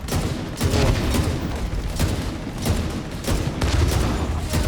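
Assault rifle fire in The Division 2 video game cracks out in rapid bursts and repeated volleys, loud and close, with brief pauses between strings of shots.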